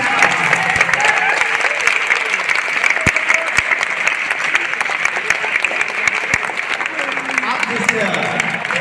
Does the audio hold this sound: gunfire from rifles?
no